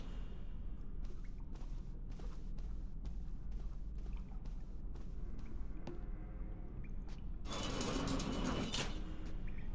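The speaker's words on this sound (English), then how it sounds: "Close the doors behind us." Heavy doors sliding closed on a cargo ship in Splinter Cell: Chaos Theory, a run of metallic creaks and ratcheting clicks ending in a louder grinding scrape, over low background hum.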